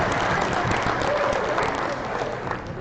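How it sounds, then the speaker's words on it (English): Audience applause at a robotics IQ tournament event, many hands clapping in a dense, steady roar that eases slightly toward the end, with no speech over it. "Let's give them a round of applause."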